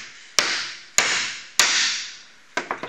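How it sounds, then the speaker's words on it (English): A hammer strikes an end cap onto the pipe of a 24-inch pick-up nut gatherer with three sharp, evenly spaced hits that ring out and fade, then a few lighter taps, all close by. "take your hammer, and press it down."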